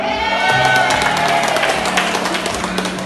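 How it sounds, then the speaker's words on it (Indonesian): A crowd at a police kapurung-eating contest in Palopo applauds and cheers as winners are announced, dense clapping over steady crowd noise with a lingering tonal hum, fairly loud and continuous. "Tepuk tangan."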